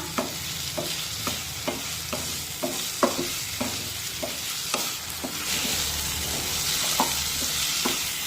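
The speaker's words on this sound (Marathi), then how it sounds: "2 मिनिटे हा बटाटा परतून घेऊया। बटाटा परतत असताना गॅसची फ्लेम मध्यम ठेवा।" Potatoes sautéed in a pan over a medium gas flame, a steady close sizzle broken by regular scraping stir strokes roughly every half second, with no talking.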